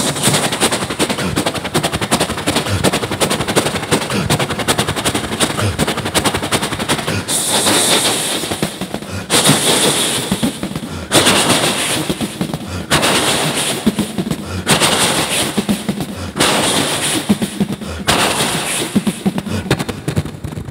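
A live performer at a Malayalam ganamela imitates a train crossing a river bridge with his voice, a loud fast rattling clatter that runs for about twenty seconds and changes character partway through.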